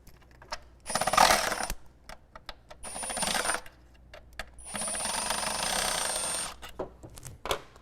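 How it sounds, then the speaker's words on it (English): A metal socket drops while someone works on a Jeep throttle body, making several bright, close metallic clattering bursts with short ringing tones between quieter clicks. No voices are heard. "Oh, dropped the socket."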